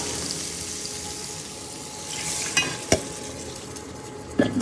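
Curry being stirred in a cooking pan in a home kitchen: a continuous soft sizzle and bubble with a few sharp scrapes and clinks of the spoon against the pan, no talking.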